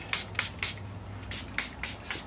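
Seven quick hissing spray bursts from a pump bottle of sea salt texturizing hair spray, close up, in an irregular rhythm with short pauses between them.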